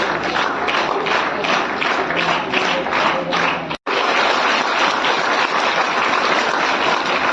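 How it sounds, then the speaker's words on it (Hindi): An audience at a school program in Sarai Akil, Kaushambi claps in steady, loud applause that breaks off briefly midway and then resumes. "तालियां बजाते रहे आप लोग।"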